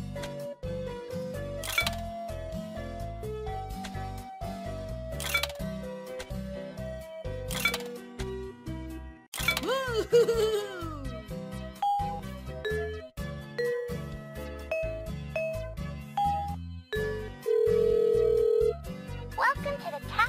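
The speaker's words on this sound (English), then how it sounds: "Please put coins in the telephone first, and then enter the phone number when prompted." Coins drop into a payphone and its keypad beeps as a number is dialled in a kids' airport game, bright chimes and clicks spaced out over a light music bed, with a synthetic voice giving instructions.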